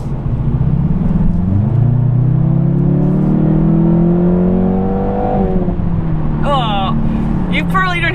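A Jaguar F-Type 2.0T accelerating hard on the road, its engine note climbing steadily through the rev range up close, then dropping off with crackling pops from the exhaust; a voice can be heard over it.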